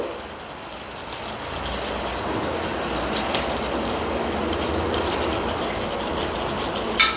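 Chicken pieces land in a pan of spiced masala, setting off a loud, steady hiss and sizzle that rushes on without pause, ending in a sharp clatter.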